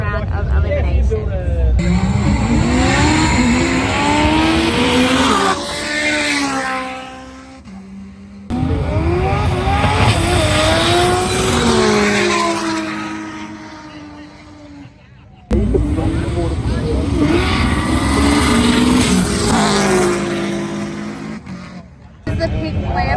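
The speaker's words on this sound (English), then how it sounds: "The pink Lambo versus the black R32." A pink Lamborghini and a black Nissan R32 in a roll race, with loud, sustained engine roars rising in pitch through the gears, cut into three bursts, under a commentator's voice.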